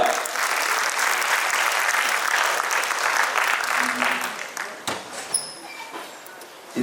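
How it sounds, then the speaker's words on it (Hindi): Audience at a Hindi poetry recital applauding, a thick, steady clapping wash that thins out into a few scattered claps and murmurs toward the end. "तालियां बजा दीजिए एक बार"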